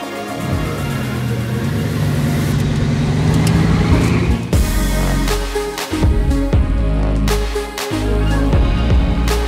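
A Bugatti supercar engine rumbles and rises in pitch, then revs hard through several loud gear changes as it pulls away close by.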